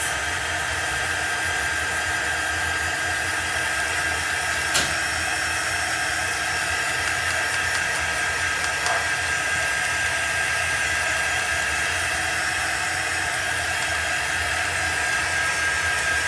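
A hair dryer blows steadily on chalk paste over a craft transfer, a loud, close, unbroken whoosh that holds for the whole stretch with only a couple of tiny clicks; no talking.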